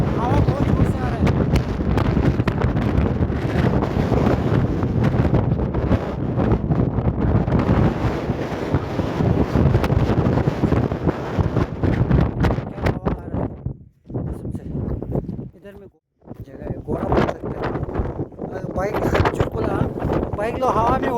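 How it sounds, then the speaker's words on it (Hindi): Strong wind roars across a foggy hillside near Gauribeta temple, buffeting the microphone almost without pause and dropping briefly twice, while people talk under the gusts. "हवा बहुत जोर से आ रहा है।"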